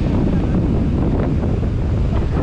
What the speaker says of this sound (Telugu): మొత్తం అలల సౌండ్లే వస్తుంటాయి